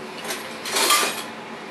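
Dishes and cutlery clink and rattle briefly while someone rummages for a spoon in a home kitchen, with a short cluster of close clatter and no speech.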